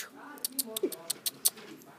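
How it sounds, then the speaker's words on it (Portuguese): A dog gives a string of short, quiet yelps and whines, about eight quick sharp bursts close by in an otherwise quiet space. "aquele ali é o meu cachorro"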